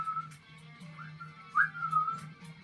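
A boss enemy in The Binding of Isaac: Afterbirth+ gives off short, clear whistling tones that slide up and flutter several times over a low, steady in-game hum.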